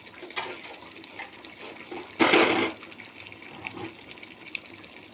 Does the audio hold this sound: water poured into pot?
yes